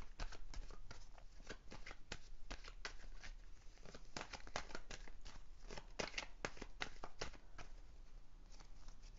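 Tarot cards being shuffled and drawn, a close, steady run of crisp papery riffles and flicks without pause, fairly quiet.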